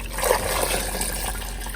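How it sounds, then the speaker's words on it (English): Water pours steadily into a cooking pot for carne en su jugo, a continuous close splashing fill lasting the whole short stretch with no talk over it. "So I'm gonna add all the water in here"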